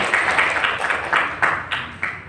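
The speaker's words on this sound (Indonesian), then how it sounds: "Tepuk tangan dong." An audience at a university student research proposal seminar claps, a steady crowd patter with a few louder bursts, fairly close and continuous for a couple of seconds.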